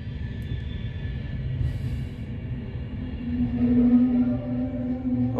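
A train slowing at Warrington Bank Quay station makes a continuous low rumble with a rising squealing brake tone that grows louder toward the end, heard close with no talk.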